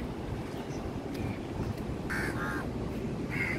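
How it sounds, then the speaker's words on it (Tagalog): Many birds calling along a riverside walk from Clarke Quay to Esplanade in Singapore, crows cawing in short bursts over steady wind and city ambience. "Daming mga ibon"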